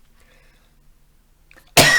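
A single sharp, loud human cough bursts out after a near-silent stretch and rings on briefly, closing the clip alone with no talk.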